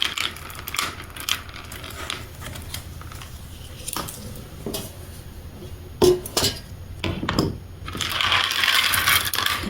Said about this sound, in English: Just going to cut those off the strand.